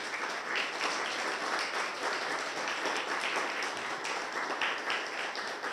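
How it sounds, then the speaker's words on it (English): A crowd gives warm, continuous applause for George Sikorsky, the parent of a hero, a dense field of clapping held at an even level throughout. "a round of applause for George Sikorsky"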